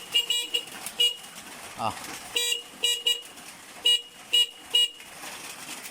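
Short car horn blasts repeated in quick succession, several separate honks of a horn wired with a passing light, with someone talking between them and a brief exclamation.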